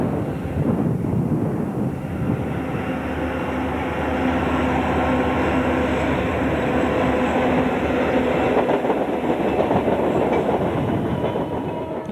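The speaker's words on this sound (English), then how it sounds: "The action begins as an eastbound intermodal train bangs across the UP diamonds." Eastbound intermodal freight train banging across a Union Pacific railroad diamond, heard as a loud, continuous rumble with rapid rhythmic clacking of wheels over the crossing throughout.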